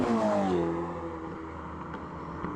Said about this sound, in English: Portofino is a much more aggressive sounding car. The exhaust is louder